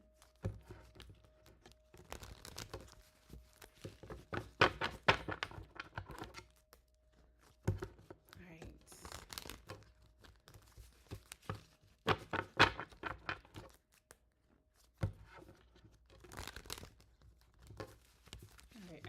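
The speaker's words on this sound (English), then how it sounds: "Shuffled really good." Crisp bursts of rapid tarot card riffling and flicking, repeated several times with short pauses between, close up, with a person speaking briefly at times.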